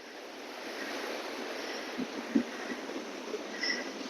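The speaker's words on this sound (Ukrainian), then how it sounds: "гребінці хвиль" Steady Atlantic surf at Deauville, Normandy, washes in a soft, continuous hiss, with a few faint thumps and splashes rising briefly from the even roar.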